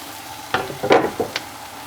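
Tomatoes go into a sizzling Iranian vegetable stew in a hot pot, a steady frying hiss with a few sharp bursts of sizzle and stirring clatter, close and moderately loud.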